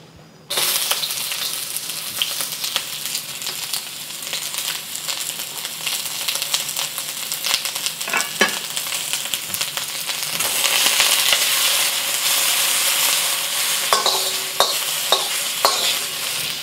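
Onions fry in vegetable oil in a wok on medium-high heat, with a loud continuous sizzle that swells midway and a spatula scraping the metal in quick clusters of strokes.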